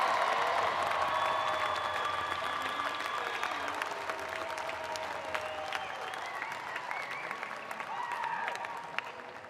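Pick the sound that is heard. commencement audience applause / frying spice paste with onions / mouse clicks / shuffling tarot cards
commencement audience applause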